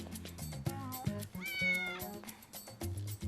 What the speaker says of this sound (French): Pourquoi t'as pris mon chat?